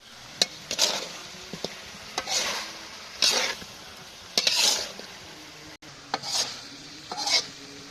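Mutton being braised kosha-style in a pan, stirred in bursts of scraping strokes over a constant close sizzle, with short pauses between stirs and no voices.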